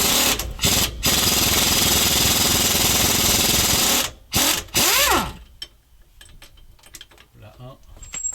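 Socket wrench with a 15 mm socket loosening the stabilizer bar silent block bolt on an Iveco Daily IV, loud rapid ratcheting clicks in long bursts broken by short pauses, then fading into quiet workshop clinks and scrapes.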